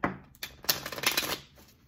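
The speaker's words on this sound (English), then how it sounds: "I just want to shuffle again." A deck of tarot cards is shuffled close up, a quick riffling flutter of rapid papery slaps rising in a dense burst and then tapering off, with no voice.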